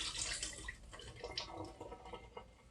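Water from soaking cut potatoes, mixed with a little lemon juice, is dumped out into a sink, giving a steady close splashing pour over the whole stretch.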